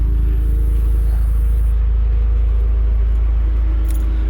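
A deep, steady exhaust rumble from an idling 2016 Volkswagen Golf R in race mode with the exhaust valve open and resonator deleted, low and constant close by, with no talking.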